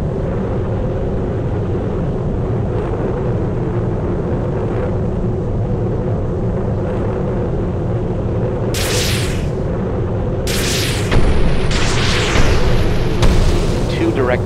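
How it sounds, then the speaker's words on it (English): Laser-guided bombs exploding in an air combat mobile game, a few sharp booming blasts bursting over a continuous jet engine drone, the last ones louder and closer. "Switching to laser-guided bombs."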